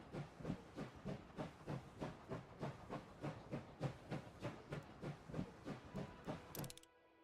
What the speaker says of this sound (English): Train stops several dozens of meters before the station.